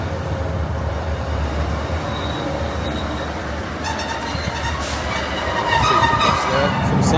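A passenger train on a Scottish main line rumbles along steadily from inside a carriage, with a continuous low roll and faint wheel clicks that grow slightly louder toward the end.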